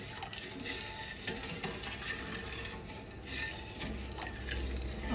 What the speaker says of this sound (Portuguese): Vamos lá, vamos mexer.